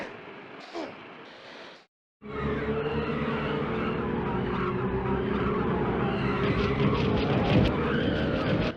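Tiny racing cars in the PlayStation game Micro Machines V3 roar and skid in a loud, continuous burst of engine whine and tire squeal after a brief quieter opening and a short gap of silence.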